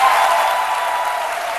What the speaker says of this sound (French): Elle, c'est Jessica Bomba que je vous demande d'applaudir